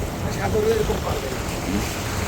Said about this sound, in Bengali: পানি কেমন টকবক টকবক করতেছে কাহিনি কি